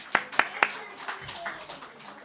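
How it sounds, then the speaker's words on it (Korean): Three sharp, close hand claps in quick succession during a church teaching session, followed by fainter scattered claps and murmuring voices. "오, 박수."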